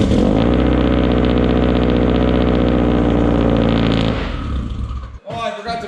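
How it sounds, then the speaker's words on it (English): Big-turbo Subaru STI engine cold-starting and running loud and steady for about four seconds, its tone thick with low harmonics, then dropping off abruptly before a short burst of clatter and voices. "Let's get a cold start going for the boys."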